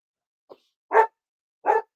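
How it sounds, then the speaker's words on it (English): A dog gives two loud, close barks about three-quarters of a second apart, preceded by a faint short yip, with silence in between. "Is the doggy barking being picked up?"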